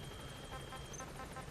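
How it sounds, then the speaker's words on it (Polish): Helicopter in the video game Metal Gear Solid V: The Phantom Pain, a steady, fairly faint rotor and engine drone with a rhythmic flutter, heard alone for a brief moment. "Gdzie jest ten helikopter?"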